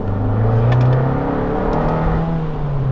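An Abarth 695 Rivale's 180 hp turbo engine hums and revs close by, a loud droning exhaust note with shifting pitch and a couple of brief high clicks.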